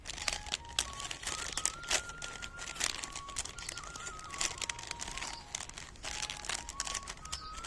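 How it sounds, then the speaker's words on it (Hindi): A plastic sheet crinkles and rustles steadily as it is rolled into a cone by hand, close and fairly loud with irregular crackling bursts throughout, alongside a faint wavering tone in the background. "ये मैंने पन्नी ली है, इसकी हम कीप बनाएंगे"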